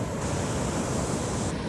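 Strong sea waves during days of heavy rain make a steady, even roar of surf with no break or voices, a continuous wash of broadband noise.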